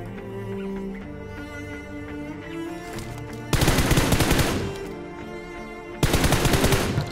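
Bursts of automatic gunfire from the battle-royale game PUBG, loud and dense rapid shots in two heavy volleys over a steady game-music background, with no talking.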